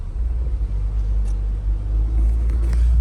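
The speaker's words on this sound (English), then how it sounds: "started the car up, let it run for a few minutes." A troublesome car engine runs at idle, a loud steady low rumble close by with slight fluctuations and no voices.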